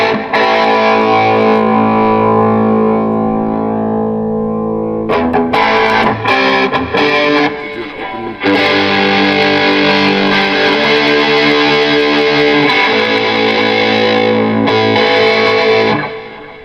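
Electric guitar played through a REVV D25 amplifier with preamp distortion, loud sustained overdriven chords with a brief choppy break midway before ringing chords return and cut off.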